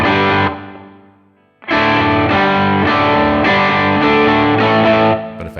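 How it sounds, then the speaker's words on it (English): A distorted electric guitar plays a riff in a restrained, calm way: a sustained chord rings out and decays, then a series of evenly spaced, moderately loud distorted chords follows, close and without talk. "I might approach playing them too calmly and it'll sound like this."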